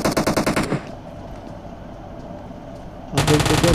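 Rapid bursts of UMP submachine gun fire in a battle royale game, loud and close, with a burst at the start and another near the end, separated by a stretch of quieter game ambience.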